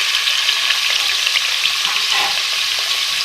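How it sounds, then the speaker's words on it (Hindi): Potatoes sizzle steadily in hot oil for an Aloo Phool Gobi gravy, a loud, even, close frying hiss with no voices. "अब इसी ऑयल में मैं आलू को भी फ्राई करूंगी"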